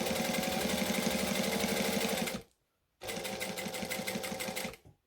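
A sewing machine stitches hoodie seams in two loud, close bursts of rapid mechanical whirring, separated by a short pause and ending abruptly.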